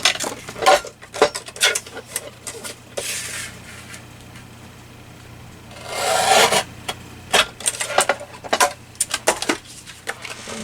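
A paper trimmer cuts paper for a craft project, giving short rasping slides and scrapes in irregular bursts, close and fairly quiet, with a longer swish midway.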